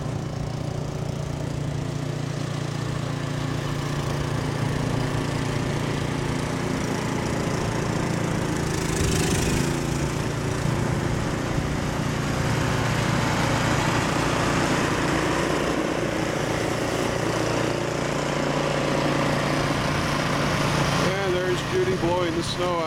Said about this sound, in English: Sorry if you're having trouble hearing this over the sound of snowblower.